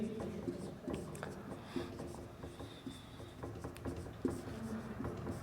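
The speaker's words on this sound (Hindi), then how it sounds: "तो फिर यहां पर लिखेंगे वही सेम बात" Marker or chalk writing on a board during a Hindi maths lesson, a steady series of short scratchy strokes and taps in an irregular rhythm, close by, with a teacher's voice heard intermittently underneath.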